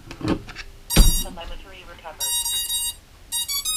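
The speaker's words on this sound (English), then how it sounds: "Now you'll hear the ESC's arm." A drone's ESCs arming with Oneshot enabled: a few short electronic beep sequences and tones, followed by a sustained series of high buzzing beeps, with bits of voice and mechanical noise between.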